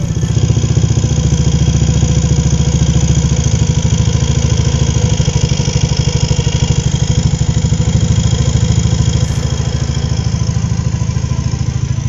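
A motorcycle engine idles steadily right after its throttle body idle is adjusted, a loud, close, even putter with a light mechanical clatter that holds at a constant rhythm throughout.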